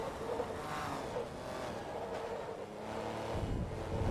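A Porsche race car laps the Nürburgring Nordschleife in Forza Motorsport 2, its engine a steady droning whine that rises and falls slightly, heard alone with no talk.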